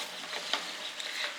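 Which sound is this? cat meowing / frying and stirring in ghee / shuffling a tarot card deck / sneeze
frying and stirring in ghee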